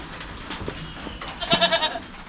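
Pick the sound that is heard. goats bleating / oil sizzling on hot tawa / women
goats bleating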